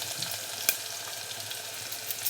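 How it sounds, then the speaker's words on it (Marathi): Garlic and green chilies frying in hot oil with mustard seeds and cumin for sambar, a steady, faint crackling sizzle with a few sharp pops and an occasional stir, no talking. "लसूण टाकूया. मिरच्या पण टाकून घ्यायच्यात आपल्या."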